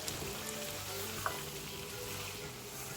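Spinach fries with dal and sweet pumpkin in a pan, giving a soft, steady sizzle and crackle at low level with one small tap partway through.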